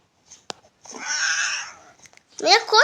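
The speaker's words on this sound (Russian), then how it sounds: "Меня кот тоже немного поцарапал." Cat in the Roblox game 99 Nights in the Forest giving a drawn-out meow lasting about a second, mid-loud, followed by a brief higher cry, with short clicks and sounds around it.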